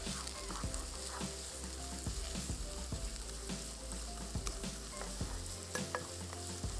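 Onions frying in Golden Sun vanaspati ghee for nihari, a steady close sizzle broken by repeated scraping stirs of a spoon through the pan, with no talking.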